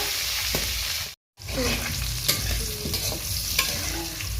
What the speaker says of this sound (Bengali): তেল গরম হয়ে গেছে আলু দেবো সামান্য একটু হলুদ লবণ আলুগুলো আমি একটু হালকা তেলে দেখে নেব